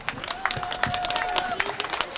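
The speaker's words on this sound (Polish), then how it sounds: "Wielkie brawa dla dzieci i dla wszystkich mam" Audience applause for children and mothers at a parish festival at St. Andrew Bobola parish in Gdynia Obłuże, a steady patter of clapping from a crowd with voices mixed in and a thin whistle-like tone running through.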